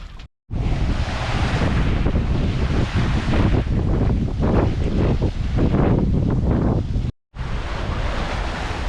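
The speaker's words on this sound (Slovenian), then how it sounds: "Danes že kar skoraj cel dan zdaj lepo piha" Strong wind roars at sea aboard a sailing boat, a loud continuous buffeting rush with surging waves, broken by two brief silent cuts.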